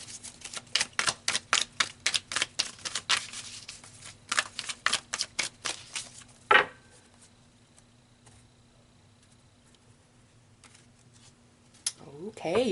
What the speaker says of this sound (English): So let's pull some more cards here.